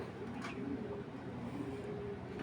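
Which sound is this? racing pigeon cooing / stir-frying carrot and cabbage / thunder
racing pigeon cooing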